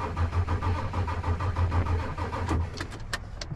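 A 1996 Ford F250 with a 7.3 Powerstroke diesel cranks without starting, giving a close, rhythmic, pulsing churn for about two and a half seconds before it cuts off into a few sharp clicks.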